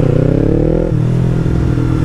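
A Yamaha MT-03 motorcycle with a full aftermarket exhaust drones steadily up close, its loud exhaust note dropping slightly in pitch partway through as it settles into a low rumble.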